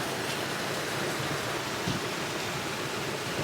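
Heavy rain pours down steadily on the hills of the Haldwani-Nainital route in a dense, even roar of broadband noise, with a rushing, waterfall-like wash from rain-fed streams and no voices.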